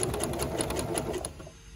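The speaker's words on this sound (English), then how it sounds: "sometimes your feed dog wants to pull this beginning part in when you start sewing" A domestic sewing machine stitches fabric in a fast, even run of needle strokes, close and loud for under two seconds before cutting off.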